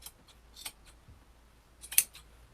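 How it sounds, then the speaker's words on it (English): Scissors handled while crafting a sweater pumpkin, giving a few soft clicks and snips, with one sharper clack near the end, close and quiet with no talking. "I'm just going to use my scissors to hold it down."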